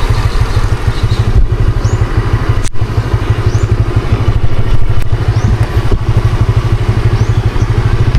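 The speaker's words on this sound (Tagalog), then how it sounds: "Ipasok natin yung motor doon." A motorcycle engine runs steadily and close by, with a low, even putter that carries on the whole time and a few light clattering knocks.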